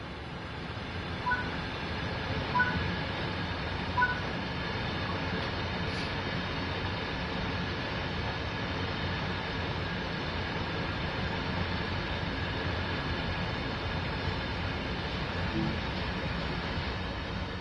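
In the train simulator game Train Sim World 4, a freight train passes by on the Sand Patch Grade line with a steady, continuous rumble and rolling of wagons, moderately loud and unbroken for the whole stretch.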